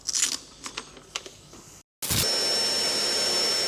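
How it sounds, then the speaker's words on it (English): Vacuum cleaner sucking up mess from a stub axle during a kingpin repair in a workshop: a few sharp knocks and clatters, a brief pause, then the motor switches on and runs loud and steady. "I'm gonna get the vacuum and I'm gonna suckle this up"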